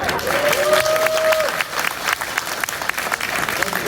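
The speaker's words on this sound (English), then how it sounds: "Can I just buy a round of applause?" A large convention panel audience at San Diego Comic-Con applauds steadily, dense clapping filling the room with a brief tonal whistle or cheer near the start, loud and continuous throughout.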